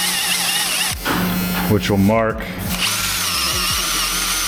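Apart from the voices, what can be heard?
drilling through metal with 13/64 drill bit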